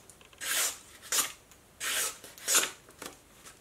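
A knife is drawn across a coarse stone on a homemade whetstone grinder, giving four rasping, scraping strokes in a steady rhythm, close and fairly soft, with no talking.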